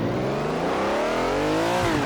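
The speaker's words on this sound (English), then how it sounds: "It is a nasty sounding engine, very, very responsive when I put my foot down." A Ferrari Daytona race car engine accelerates hard off the line on a Bathurst circuit, a loud close continuous roar with rising pitch as it revs up through the gear, heard from inside the car.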